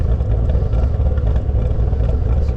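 A fifth-generation Chevrolet Camaro Z/28 V8 idling with a choppy, lumpy cam rhythm, heard up close and loud as a steady rumbling burble with uneven pulses throughout, no voices over it.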